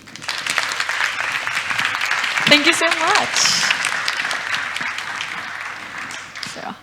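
Steady, loud applause from a climate change summit audience greeting a speaker, sustained throughout with a voice briefly speaking over it near the end.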